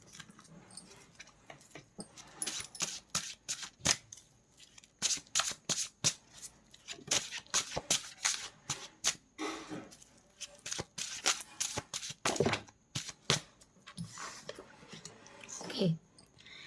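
A deck of tarot cards is shuffled repeatedly in close, rapid flicking riffles, with brief pauses between runs and a quiet voice now and then.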